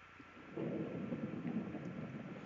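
Minecraft thunder rolls in as a low, moderately loud rumble that swells after a quiet start and keeps rumbling to the end.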